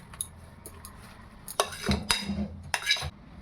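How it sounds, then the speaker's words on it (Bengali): Fried fenugreek leaves are stirred into cooked chana dal in a pan, with scraping spoon strokes and light metallic clinks in short bursts over a faint sizzle. "মেথি শাকটা যে আমরা ভেজে রেখেছিলাম, মেথি শাকটা অ্যাড করবো, পুরোটা একসাথে মিলিয়ে নিই ভালো করে"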